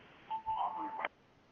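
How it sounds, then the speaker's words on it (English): An unmuted phone in the background of an online meeting gives off a brief electronic tone lasting under a second, faint and distant, with no talking. "It's a noise in the background. Please mute your phone,"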